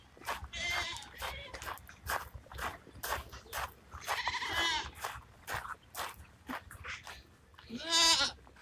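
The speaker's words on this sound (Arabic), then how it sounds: "هذا غنم" Goats or sheep on a farm bleat repeatedly at uneven intervals. The cries are loud and near, with a strong final bleat, over quieter rustling and shuffling from the animals.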